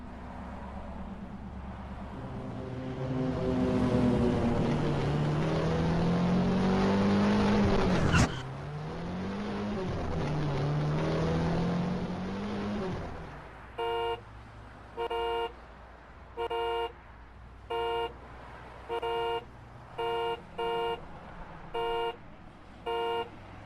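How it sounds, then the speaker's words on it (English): A car on a busy road, its engine revving and rising in pitch as it drives past, then a regular series of short honks from a car horn sounding over the traffic, with no talk. "Shall we go for a ride in that car?"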